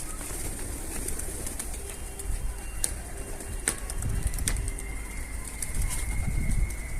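Pigeons on a rooftop coo in low throaty bursts over outdoor ambience, with a few sharp flurries of flapping wings as birds take off and land nearby.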